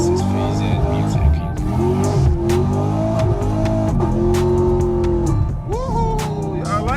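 Tuned Chevrolet Camaro SS launching hard from a stop sign at night, the engine roaring up through rising revs with gear shifts and a tire squeal near the end, heard close from inside the car.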